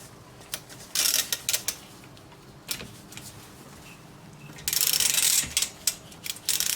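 Cylinder head nuts are loosened on a Vespa PX scooter engine, heard as short bursts of quick metallic ratchet clicks with pauses between them, close by and alone.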